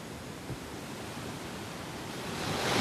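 Sea waves wash against a shore in Kerala, a steady broadband roar with no talk that swells louder toward the end.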